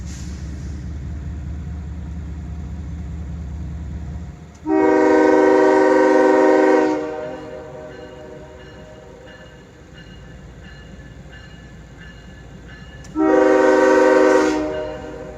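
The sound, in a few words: CSX freight train horn blowing at crossing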